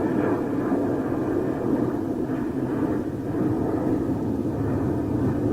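A freighter jet at a Chicago airport, a steady, distant low roar of engines that holds evenly throughout without talk.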